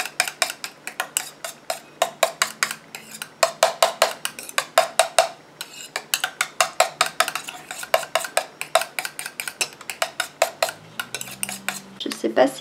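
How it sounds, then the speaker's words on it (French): Rapid clinking of a utensil stirring a light aloe vera gel mixture in a bowl, a steady rhythmic run of bright scraping taps that pauses briefly once before resuming, close and fairly loud with no talking. "Je mélange."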